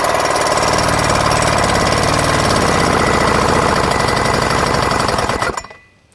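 A 15 HP Gamefisher outboard motor runs loud and close with a rapid, rattling, steady engine chatter, then cuts off abruptly near the end, leaving near silence.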